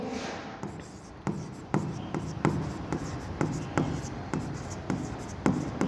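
Pen writing out a journal entry on paper, with a steady rhythm of distinct scratchy strokes and taps repeating about every half second, close and clear, while someone talks.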